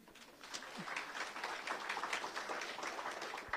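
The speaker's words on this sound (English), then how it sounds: "A round of applause for Joe." Applause from an audience at a talk on ecosystem services and biodiversity, a steady patter of many hands clapping at moderate distance throughout, fairly quiet and without voices.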